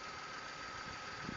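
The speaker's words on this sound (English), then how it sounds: "Engine sounds tight." A VW Polo 1.2 petrol/LPG car engine runs steadily, a smooth, even hum heard close by with no talk over it.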